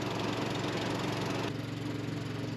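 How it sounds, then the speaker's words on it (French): Boat motor on an Amazon river in Colombia, a steady droning engine running continuously and close by, loud and unbroken with a low rhythmic chug throughout. "Même devant, il y a le bruit du moteur en permanence."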